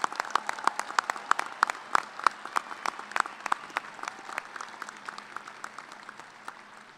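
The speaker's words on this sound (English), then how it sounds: "big round of applause." Audience applauding graduates at a Kansas State University commencement, sharp distinct claps ringing out in a large hall, strong at first then thinning and fading toward the end.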